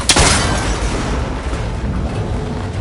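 In Horizon Forbidden West, a cable connector is shot and blows apart with a loud booming burst at the start, followed by a rumbling, crackling tail that carries on strongly to the end.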